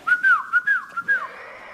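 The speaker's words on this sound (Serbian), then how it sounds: "Ajde zazviždi nešto sad." A person whistles a short, clear tune of four or five rising and falling notes, close and alone with no talking.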